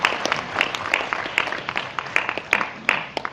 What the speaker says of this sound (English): We welcome him with a round of applause